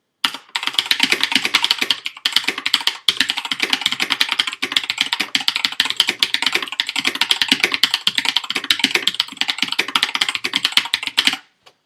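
Rantopad MXX mechanical keyboard with blue switches, unplugged, typed on in a steady fast patter of sharp clicky keystrokes with brief pauses, close and loud, no talking.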